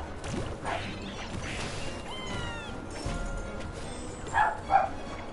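Dogs bark in the background behind game audio, a few short yips and barks rising near the end of the stretch over a steady bed of other sound.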